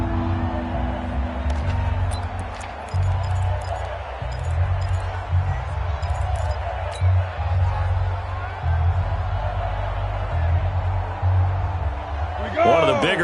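A football stadium crowd at a Buffalo Bills game roars steadily ahead of a big third down, a dense, sustained wall of cheering under a commentator talking throughout.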